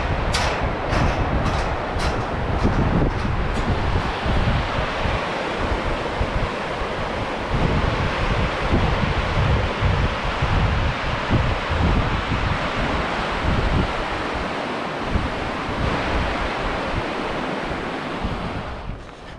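Colorado River water rushing beneath a bridge on the Bright Angel Trail in the Grand Canyon, a steady loud broadband roar of flowing water with wind noise, continuous throughout with no talking.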